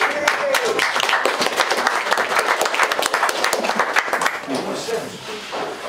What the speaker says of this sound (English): There's only 5 of you clapping.